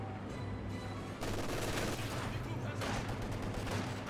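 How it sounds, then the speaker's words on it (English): Simulated MG42 machine gun firing in a Company of Heroes 2 match, a dense sustained stream of gunfire and battle noise that runs through the whole stretch, with a voice talking over it. "MG42 firing away, suppressing some of these squads."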